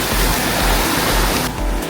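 Surf washing over White Beach, Boracay at high tide, a steady broadband wash of breaking waves with rhythmic surges, close and fairly loud, no voices.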